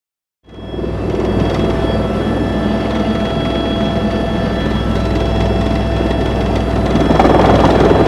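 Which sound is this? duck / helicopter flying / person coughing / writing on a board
helicopter flying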